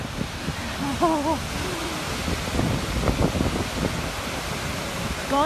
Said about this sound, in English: Goðafoss waterfall.